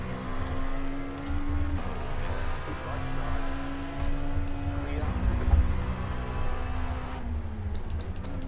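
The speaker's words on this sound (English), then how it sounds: "the GT is pulling onto the apex after exiting the pits in front of an LMP" A GT race car in a racing video game exits the pits ahead of an LMP prototype, its steady engine drone shifting pitch through gear changes, with other cars faintly audible in the mix.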